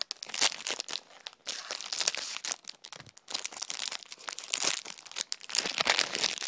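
Small plastic bag being cut open and handled, with continuous close crinkling and crackling of thin plastic and a few sharper snips or tears, no talking.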